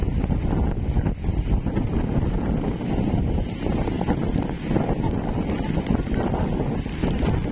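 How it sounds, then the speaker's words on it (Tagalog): Strong typhoon wind roars without a break at Dinahican, Infanta, Quezon during Super Typhoon Pepito, a loud, dense, gusting rush that buffets the microphone, with surging sea noise beneath it and no talk. "Delikado itong ano, kalakas ng hangin no?"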